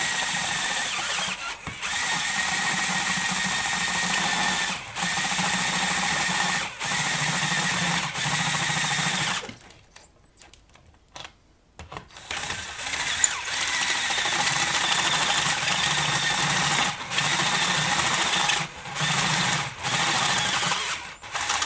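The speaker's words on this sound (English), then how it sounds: "Hard job for this drill." Electric drill boring a tube socket hole in a metal chassis, a loud continuous whining grind broken by several brief pauses and a longer stop midway before drilling resumes.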